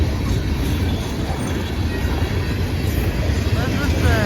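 CSX M327 freight train cars, including boxcars, rolling past during a snow storm, a steady loud low rumble of wheels on rail continuing throughout without break.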